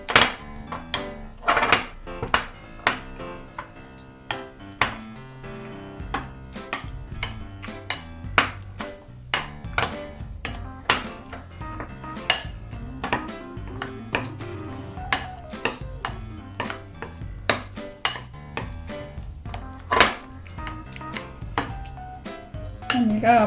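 A spoon or utensil mashes salted egg yolk sauce in a bowl, giving rapid, irregular clinks and scrapes against the bowl that continue steadily throughout at close range.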